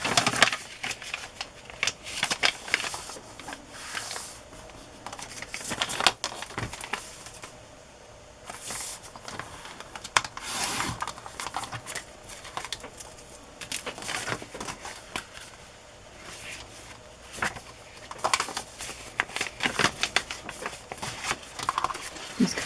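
Paper pages for handmade journals being trimmed to size with a cutter, giving repeated crisp slicing and rustling strokes at close range, with occasional quiet handling between cuts.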